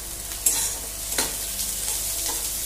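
Onions and vegetables fry in a pan for egg chow mein, giving a steady broadband sizzle with a few brief stirring scrapes and clinks, fairly close and without talk.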